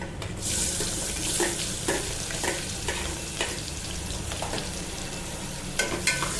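Onions and cumin seeds sauté in hot butter and oil inside a pressure cooker, a close, continuous frying sizzle punctuated by several scraping stirs of a spoon against the metal.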